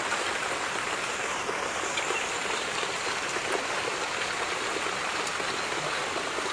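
Heavy rain pours down in a dense, unbroken hiss that stays loud and close from start to finish, with no voices over it.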